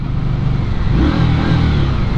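A 2019 Indian Scout Sixty motorcycle with stock exhaust rumbles and revs steadily up close, a deep, throaty exhaust note holding loud and continuous throughout.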